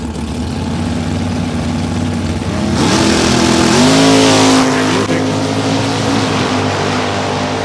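Loud, close roar of drag racing car engines, a Z28 among them, at a bracket final; the engine pitch sweeps upward as throttle rises and holds a heavy, steady drone.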